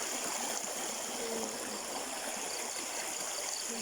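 A stream of water flows steadily, a continuous broadband rush with a bright hiss, heard alone with no voices and nothing else breaking through.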